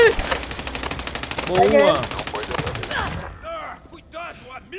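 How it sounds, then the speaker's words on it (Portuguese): Rapid automatic gunfire from a Call of Duty Warzone match, loud bursts in the first three seconds over players' voice chat, then quieter game sounds with brief talk. "Nossa, que é um tiro."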